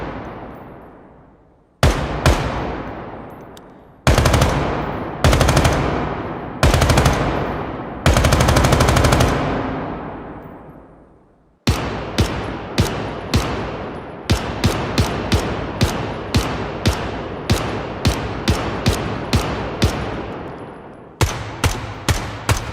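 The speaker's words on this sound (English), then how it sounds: "a new video which shows some of the interior space gunshot tails, which I'm going to play on the screen right now" Interior gunshot reverb tails from the shooter game Ground Branch: several loud single shots with long decaying echoes, then rapid automatic bursts ringing through an enclosed space, with no talking.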